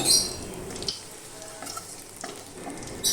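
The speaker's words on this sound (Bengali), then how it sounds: "কড়াইতে আরও একটু তেল দিলাম তাতে সাদা দিয়ে তেজপাতা শুকনো লঙ্কা ফোড়ন দিলাম" Bay leaf, dried red chilies and cumin seeds temper in a little extra hot oil in a kadai, a steady crackling sizzle with some stirring, loud and close, with no voices.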